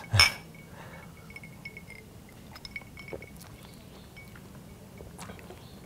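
Glasses clink together in a spice-themed cocktail toast, one sharp loud clink at the start followed by a few faint taps and small clinks against a quiet room background.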